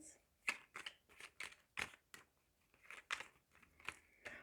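Tarot cards are shuffled for a card reading in a quiet room, giving soft riffling and flicking bursts in an uneven rhythm at low level.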